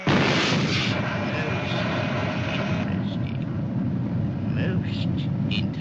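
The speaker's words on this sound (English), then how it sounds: "I release the charge, and the thermite bomb fires" A thermite bomb fires after a charge is released, giving a loud, sustained, broadband roar that holds steady for the full span with little change in level.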